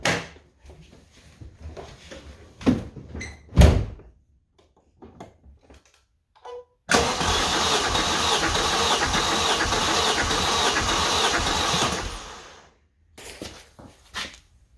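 A 1994 Vauxhall Astra GSi engine cranks on the starter during a compression test on cylinder one, a steady whirring churn lasting about five seconds after scattered clicks and clunks of setup, then stopping.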